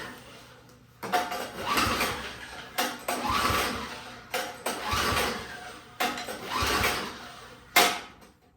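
Repeated pull-starts of a Craftsman snowblower engine that won't start, each pull giving a rough mechanical whirring burst of turning over, spaced about a second apart and heard up close with no talking.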